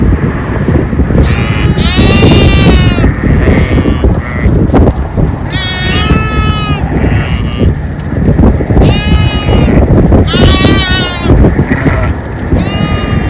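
Several goats bleat loudly and repeatedly nearby in Khalifouh Village, Kuwait, their wavering calls overlapping amid rustling and movement.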